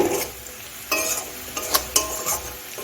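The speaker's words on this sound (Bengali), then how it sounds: "দেখুন আমার পেঁয়াজ ভাজা হয়ে গেছে আমি পেঁয়াজটা হালকা লাল লাল করে ভেজে নিয়েছি" Onions fried to a light reddish colour in a pan for poppy seed paste sizzle steadily while a spatula stirs them, with intermittent scrapes and metallic clinks.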